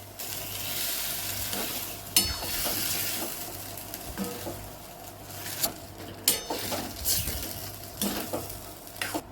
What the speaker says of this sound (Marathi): त्यामध्ये काळं वाटण टाकू आणि परतून घेऊया